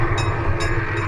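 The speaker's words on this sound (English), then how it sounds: "That's a great looking little train." A small novelty train rolls past at a Christmas parade, a steady rumbling engine bed with repeated short whistle toots cutting through, loud and close, with no talk.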